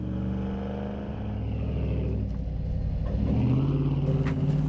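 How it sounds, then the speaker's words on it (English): A big Dodge Ram pickup's engine drones steadily as it climbs a tight road, rumbling low and rising slightly in pitch as the throttle opens, close and continuous with no talking. "Should I be having this much fun driving this big old truck up this tight road?"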